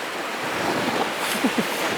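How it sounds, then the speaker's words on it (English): White water rapids rush and splash on a wilderness river trip in the Arctic National Wildlife Refuge, a continuous roaring wash close to the microphone with a few sharper splashes near the end. "White water! I'm gonna get soaked!"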